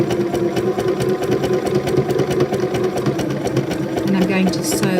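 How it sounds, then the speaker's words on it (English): Sewing machine stitching a fabric panel for doorstop bunting, a steady rapid mechanical chatter running throughout at close range, with someone talking over it. "I'm going to sew all the way up to the top of that stitch"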